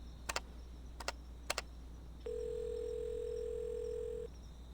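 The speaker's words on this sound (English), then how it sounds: "Slowly, she reaches for the waiting phone." Steady telephone dial tone on a phone line, a single sustained tone lasting about two seconds, preceded by three short clicks or taps, faint and alone.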